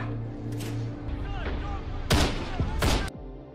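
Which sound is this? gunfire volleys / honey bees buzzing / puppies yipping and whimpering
gunfire volleys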